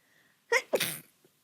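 A single sharp human sneeze, close and loud, with a quick intake before the burst and quiet around it.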